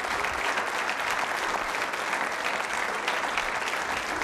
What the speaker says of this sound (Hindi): तालियां सबके लिए बजाइए जोरों से